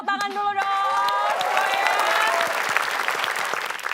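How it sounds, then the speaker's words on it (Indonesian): Audience applause breaks out at a lively game show, a dense, sustained clapping that swells after a brief musical jingle and holds steady throughout, close and loud. "kita berikan tepuk tangan dulu dong"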